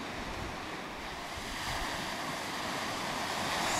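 Ocean waves wash steadily against the coast near Anamur, a broad continuous surf hiss that slowly grows louder, with some wind noise on the microphone and no voices.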